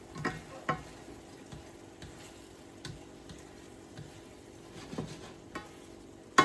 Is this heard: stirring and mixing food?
yes